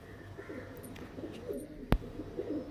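Pakistani Teddy pigeons, a breeding male and female, coo faintly in low rolling burbles, with a sharp click partway through and no talking.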